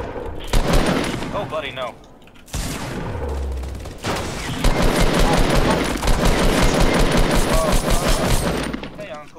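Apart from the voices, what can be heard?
gunfire in Fortnite video game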